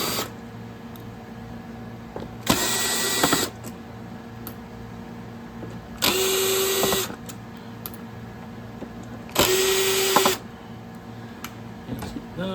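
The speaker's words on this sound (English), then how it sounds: "Taking the screws out of the back so it'll pop open." A power screwdriver backs screws out of the rear of a Favero fencing reel, whirring in three separate bursts of about a second each, with quiet pauses between them.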